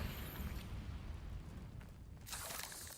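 Incendio fire spell blasting in Hogwarts Legacy, a broad roaring burst of flame that holds steady through the clip and swells again near the end, loud and close against a dense rumbling game soundscape.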